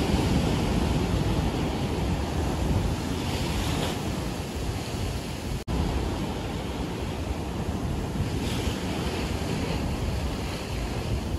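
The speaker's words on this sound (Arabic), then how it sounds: "دابا راه البحر مطيب." Sea waves roll and break steadily on a shoreline where someone is fishing, a loud, continuous surf roar mixed with wind buffeting the microphone, with no voices.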